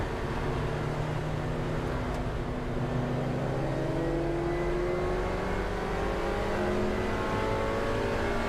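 Porsche race car in a Roadsports club race at Silverstone National, engine droning loud and steady as it accelerates, with rising harmonic sweeps of the revs and other cars audible nearby, no talk.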